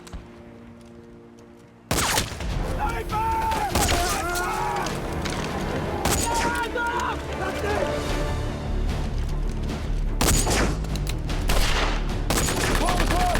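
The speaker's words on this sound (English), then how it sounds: "Rogers, lay down some fire!" Rapid bursts of gunfire and explosions from a D-Day Omaha Beach battle video game, loud and continuous after a quiet start, with voices shouting over the combat.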